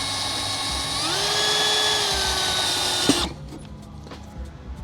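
A drill with a 7/32-inch bit whines at a high steady pitch, its tone rising as it bites in, then cuts off abruptly, leaving quiet clicks and light handling noise.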